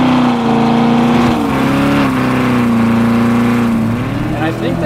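A 2014 Chevrolet Corvette Stingray C7 engine holds a loud, steady drone for several seconds, its pitch swelling and dipping slightly.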